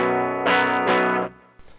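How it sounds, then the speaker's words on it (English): Electric guitar played through a cheap PA powered mixer with solid-state distortion: a few sustained, edgy distorted chords struck in quick succession, ringing out, then a brief quieter scratchy strum at the end. "when you try to get clean, especially on this cheap mixer here, you still kind of get a little bit of edge of solid state distortion in there"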